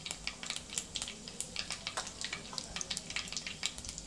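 Cumin and mustard seeds sizzle and pop in hot oil in a pan, a busy crackling hiss with sharp little spits throughout, close and fairly quiet, with no talking.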